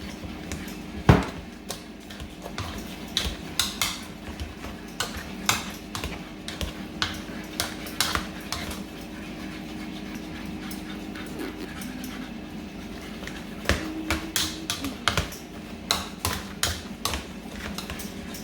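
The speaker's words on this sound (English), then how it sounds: "I'm going to get those mashed." Boiled potatoes are hand-mashed with butter in a bowl, the masher making repeated irregular thumps and squishes up close, with a few sharper knocks against the bowl.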